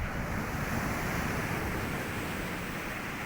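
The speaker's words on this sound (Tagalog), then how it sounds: "maganda pag medyo malaki yung alon" Ocean waves wash steadily onto a beach in a dense, continuous roar of surf, close and loud, mixed with wind buffeting the microphone, with no voices heard.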